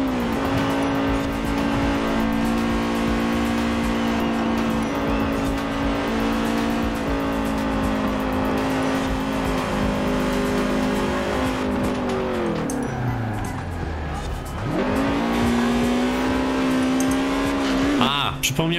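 Volkswagen Corrado engine in the Forza Horizon 4 racing game, holding a steady loud drone that dips as revs fall, then climbs again in a strong acceleration, with tire and road noise underneath.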